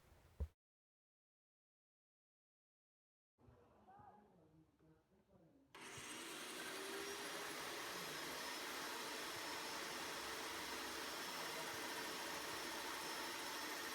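A Kraus & Becker carpet cleaning extractor is primed and started: after a short silence, muffled handling sounds give way to the machine's steady, loud roaring whine, which runs continuously for the rest of the clip.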